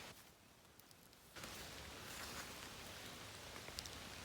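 Faint rain begins suddenly after a quiet moment in a forest during the rainy season, then falls steadily with a soft, even hiss and occasional drops.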